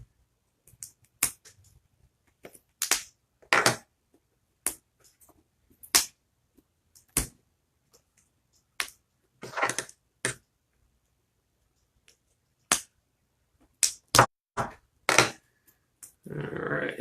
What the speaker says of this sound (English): So I'm going to cut into this one now.